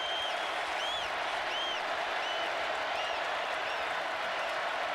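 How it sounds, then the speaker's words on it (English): A stadium crowd at the 2019 LSU versus Alabama college football game roars steadily and loudly, a dense unbroken wall of cheering. "Now the crowd into it."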